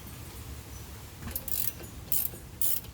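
A wrench turns a brake caliper bolt on a car, giving faint, quiet bursts of metallic ratcheting clicks in three short spurts over low background noise.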